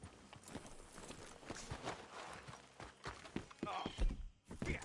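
Horse hooves clip-clop in Red Dead Redemption 2, a run of fairly soft, uneven hoof strikes over ground with some rustling and movement sounds mixed in.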